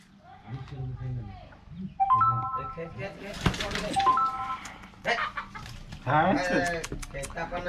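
A village rooster clucks in short, repeated bursts close by, while a person talks quietly over the calls.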